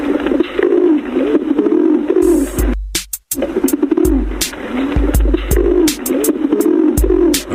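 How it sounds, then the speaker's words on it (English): Recorded pigeons coo in repeated soft, throaty phrases played back loudly and close, the rhythmic calls continuing throughout with a brief dropout midway and sharp clicks between. "Those pigeons are sounding pretty happy"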